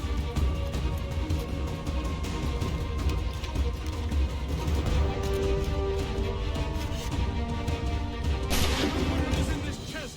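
Dense, rapid gunfire and booming shots in Assassin's Creed 3, a continuous volley of cracks and blasts layered together at high loudness, with a sharper burst near the end.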